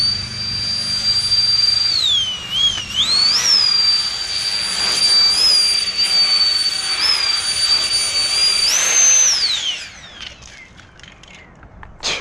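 The electric ducted fan jet on a Hypergo 14303 RC thrust car screams with a loud, high-pitched whine that wavers and surges as the throttle changes, then spools down and drops away near the end.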